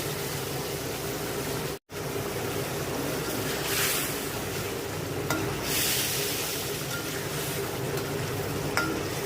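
Fried hilsa fish pieces slide into a boiling curry, giving a steady bubbling simmer with a broad rushing hiss and a few soft splashy surges, close up and continuous apart from one brief dropout.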